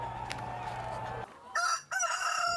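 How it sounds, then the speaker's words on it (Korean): Free-range chickens on a hillside farm cluck and a rooster crows in bursts, fairly close, over a steady low hum that cuts out midway. "잠비탈에서 방목하여 키우는 닭들을 보니 정말 건강해 보였는데요"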